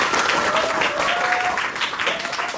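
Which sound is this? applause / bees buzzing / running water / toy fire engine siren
applause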